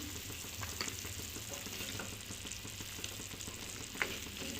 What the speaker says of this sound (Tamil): ஓகே, கொதிக்க ஆரம்பிச்சிருச்சு, நல்லா கொதிச்சிருச்சு